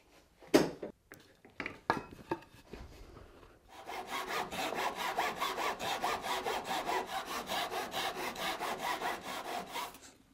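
A hand saw cuts a housing joint in wood, a few sharp knocks and tool clatter at first, then a steady back-and-forth rasp of close, rhythmic strokes continuing to the end.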